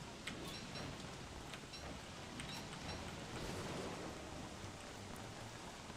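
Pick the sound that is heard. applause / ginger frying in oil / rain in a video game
rain in a video game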